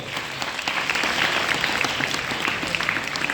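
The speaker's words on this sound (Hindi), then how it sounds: "उनके लिए जोरदार ताली बजाओ।" Loud, sustained clapping from an audience at an Arya Samaj Vedic bhajan gathering in Hisar, a dense, even wash of many hands continuing without a break from start to finish.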